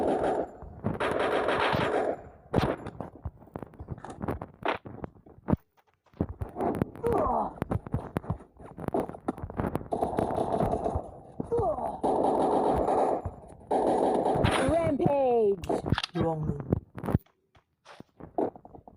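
Rapid gunfire bursts from the mobile battle-royale game Free Fire, loud and repeated in clusters of automatic shots, with in-game effects and someone talking over much of it.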